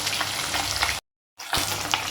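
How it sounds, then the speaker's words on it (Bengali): Large pieces of fish frying in oil make a dense, close sizzle that cuts to silence for about a third of a second midway and then resumes just as loud. "চলো মাছগুলো ভেজে নিই।"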